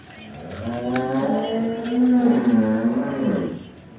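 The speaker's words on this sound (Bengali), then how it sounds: "দেখছেন এটা হলো একটা জার্সি ফ্রিজিয়ান গরু।" A Jersey Friesian cow gives one long, loud, close moo lasting about three seconds, rising and then fading, with no talking over it.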